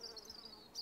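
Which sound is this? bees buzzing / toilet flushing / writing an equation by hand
bees buzzing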